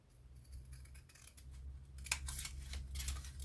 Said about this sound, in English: So I'm just cutting up to that score line.